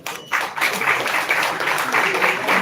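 Audience applause at a Chhattisgarh official-language day event honouring Acharya Ramendra Nath Mishra, breaking in after a brief pause as steady, dense clapping from a crowd, with some voices mixed in.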